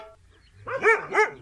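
Two dogs at a rural compound bark at a newcomer, a pair of close, loud barks following a short quiet lead-in with no talking.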